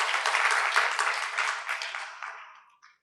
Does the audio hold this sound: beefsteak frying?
no